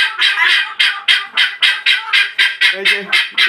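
Guinea fowl (titir) on a Bangladeshi poultry farm give a rapid, rhythmic run of harsh, repeated calls, about a dozen evenly spaced squawking bursts, loud and close with no talking over them.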